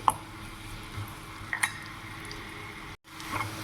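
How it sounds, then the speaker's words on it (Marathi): Tomato puree going into a pan of fried garlic, a soft sizzle with light clinks of a utensil against the pan and a brief pause. "यामध्ये मी आता टमाटरची प्युरी ॲड करते"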